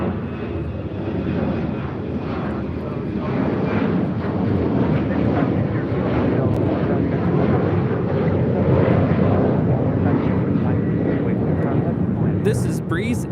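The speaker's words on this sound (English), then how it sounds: "This is Breeze Airways 6373 taking off to Las Vegas on an E190." A Breeze Airways Embraer E190 bound for Las Vegas takes off at LAX. The jet engines make a loud, broad, sustained roar that builds slightly and holds steady, with voices talking over it.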